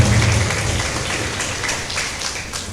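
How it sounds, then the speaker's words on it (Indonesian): An audience claps at a faculty open day event, a steady wash of applause that holds at a constant level throughout without speech on top. "Ketua Panitia Open Day, Vivi, tepuk tangan dulu untuk beliau."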